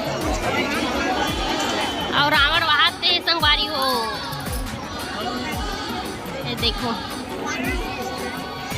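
A large crowd gathers at an outdoor Ravan burning festival, with dense hubbub, chatter and children's shouts filling the background while a close voice talks over it.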